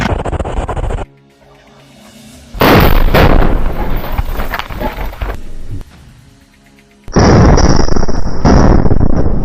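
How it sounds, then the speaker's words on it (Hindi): An IED blast destroys a Merkava tank in combat, heard as loud, close bursts of explosion. A roaring detonation is broken by short quieter gaps, then a second heavy boom with crackling debris follows. "हमास का लड़ाका रिमोट कंट्रोल से इस आईडी में ब्लास्ट कर देता है, जिसकी वजह से टैंक के परखच्चे उड़ जाते हैं"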